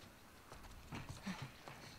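Horse hooves clip-clopping in The Last of Us Part II, a few soft, irregular thuds at low volume against quiet ambience.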